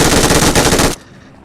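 Loud, rapid automatic gunfire from the PUBG Mobile video game, a dense burst of closely spaced shots for about a second that cuts off abruptly into quiet.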